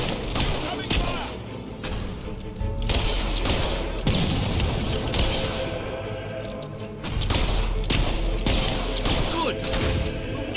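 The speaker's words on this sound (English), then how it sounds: "We'll never get through those gates while the mortar's there." In Fable 3, mortar fire and explosions boom repeatedly in heavy, irregular bursts, each followed by a rumbling crackle. The blasts are loud and close and overlap into a near-continuous battle din.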